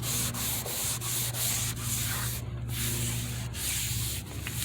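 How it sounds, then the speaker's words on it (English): Old paint on a truck tailgate being lightly scuffed by hand with sandpaper, a steady, close, continuous rasping scrub with faint rhythmic pulses and no talking. "You guys can see just a light scuffing, not enough to leave gouges in the paint."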